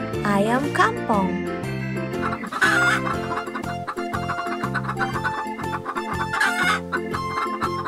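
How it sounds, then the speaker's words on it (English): Ayam Kampong chicken clucking and crowing, with a drawn-out crow early on and repeated clucks after, all over continuous background music. "Ayam Kampong."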